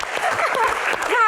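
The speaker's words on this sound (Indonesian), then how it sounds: "baik, tepuk tangan." A studio audience claps briefly on a talk show, a quick burst of applause under and around a speaking voice, fairly loud and close.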